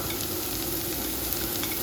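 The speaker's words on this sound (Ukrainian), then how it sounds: "Хтось любить виварювати буряк, мені подобається його смажити." Grated beetroot sizzles in a frying pan over a single burner with already fried onion and carrot for borscht, giving a close, steady crackling hiss with no talk.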